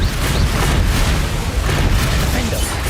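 The Bombarda explosion spell in Hogwarts Legacy gives a dense, sustained booming blast that stays loud throughout, with voices mixed in underneath.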